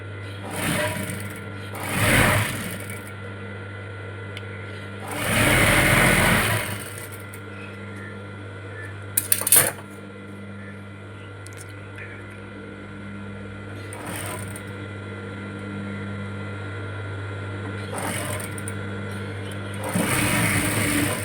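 A sewing machine stitches the hook strip on the front of a blouse in short bursts, each run a dense mechanical whir that stops between passes over a steady background hum.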